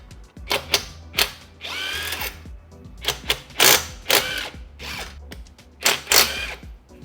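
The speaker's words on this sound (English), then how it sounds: "let's go ahead and take these 5 lug bolts off" Power tool spinning five lug bolts off the wheel of a BMW G80 M3 in a garage: a series of short, loud whirring bursts with pauses between them, each burst rising and cutting off sharply.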